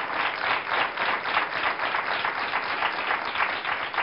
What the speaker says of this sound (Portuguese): uma salva de palmas para esta mãe preocupada com o filho